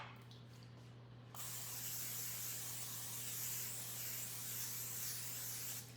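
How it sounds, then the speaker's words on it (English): Non-stick butter spray hisses into a cake pan, a quiet pause first and then one long continuous aerosol spray that runs steadily to the end, close and unbroken. "I use a butter spray, super easy, non-stick. Spray the sides and the bottom."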